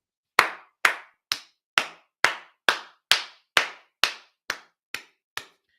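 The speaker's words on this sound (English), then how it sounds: "Huge round of applause" A single pair of hands claps twelve times at a steady, deliberate pace, each clap sharp, close and alone, with nothing else audible.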